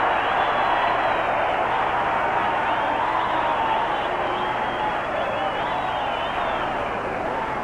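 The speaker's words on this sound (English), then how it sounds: "Talk about a crowd going absolutely crazy." Wrestling crowd roaring and cheering after Lou Thesz and Verne Gagne's bout, a loud, steady wall of voices that stays dense and unbroken throughout.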